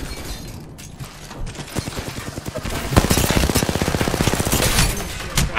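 Rapid bursts of automatic gunfire from the Apex Legends video game, loud and close, crackling in quick repeated volleys that intensify into a dense, continuous stream of shots.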